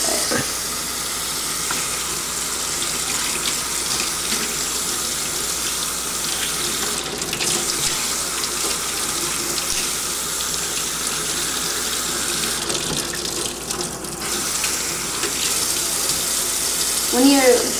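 Tap water runs continuously into a sink while a hookah is rinsed out, a steady broadband splashing hiss with brief shifts as the flow hits the vessel.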